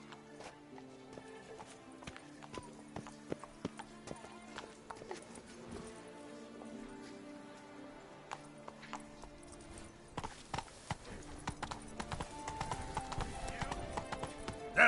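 Roach, the horse in The Witcher video game, clip-clops at a trot in a steady hoof rhythm over a game soundtrack, and the footfalls grow busier and louder toward the end.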